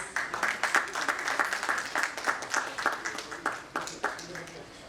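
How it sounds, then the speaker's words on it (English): Steady clapping from a crowd at an education leadership summit and book launch, a dense run of overlapping claps that holds at an even level throughout. "let us all welcome her once again on stage with a huge round of applause"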